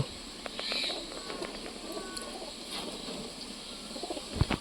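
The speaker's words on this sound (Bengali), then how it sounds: "এটা একটা মেল পায়রা" A male teddy pigeon gives low, soft coos close by, with faint chirps and light background noise around it.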